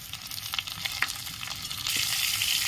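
Onions frying in oil crackle with scattered stirring clicks, then the sizzle brightens and thickens as chopped tomatoes are added to the pan near the end.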